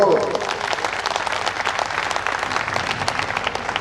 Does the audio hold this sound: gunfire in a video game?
no